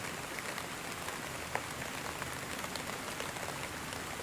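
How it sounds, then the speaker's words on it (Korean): Steady rain patters and taps against a window, a dense even hiss with scattered sharper drops, close and continuous with no voices. "창문을 때리는 빗소리가 후드득 울리고 있다"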